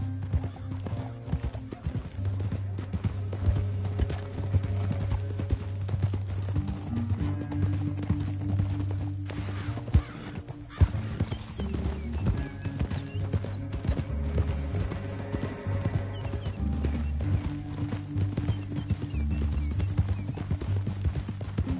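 Horses clip-clop in a western film scene, hooves striking in a steady rhythm over a continuous low rumble, with a sharp louder burst around the middle and no talk.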